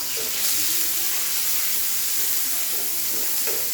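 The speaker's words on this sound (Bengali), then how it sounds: "পেঁয়াজটা কিছুক্ষণ ভাজা হোক" Steady, dense sizzling of onions frying in a pan, continuous and fairly loud, with occasional faint stirring scrapes and no talk.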